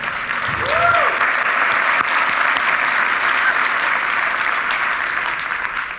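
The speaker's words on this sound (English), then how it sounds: "let's give a big round of applause to Redis Labs" An audience at a Redis conference applauds steadily for several seconds, a dense even wash of clapping from a large room, with a brief voice early on.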